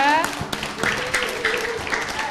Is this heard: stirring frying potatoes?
no